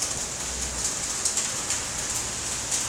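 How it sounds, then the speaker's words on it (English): Steady rain falling during a thunderstorm, a continuous soft patter of drops with a few brighter splashes rising now and then, moderately close, with no voices and no thunder. "guys, it's raining."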